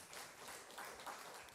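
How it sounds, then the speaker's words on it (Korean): A church congregation at a Sunday afternoon service claps together, heard as a faint, distant, steady wash of applause lasting only a moment. "우리 박수 한번 쳐봅시다."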